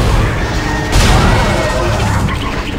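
Gunfire in the sci-fi horror game Dead Space: one sharp, loud blast near the middle cuts through a steady, noisy bed of game ambience, with no talking.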